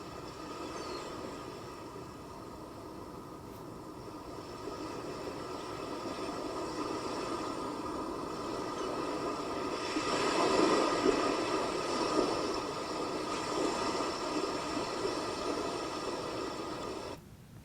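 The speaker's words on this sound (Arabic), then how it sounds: "إنه صوت البحر." Sea sound played for children: a steady broadband wash of surf that swells slightly midway, calm and continuous, with no speech.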